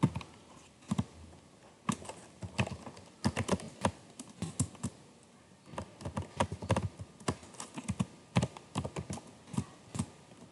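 Someone types network switch configuration commands on a computer keyboard. Sharp key clicks come close and clear in irregular bursts and rapid runs, separated by short pauses, with no talking.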